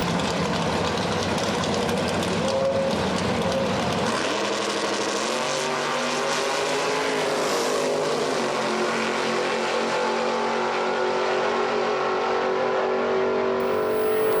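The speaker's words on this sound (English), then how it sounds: "72 Vega takes on Sam Patrick, Sandpoint, Michigan, with a 37 Chevrolet" Drag racing at Beech Bend Raceway Park, a 1972 Vega against a 1937 Chevrolet, with loud engines roaring and revving steadily throughout the run, no voices over it.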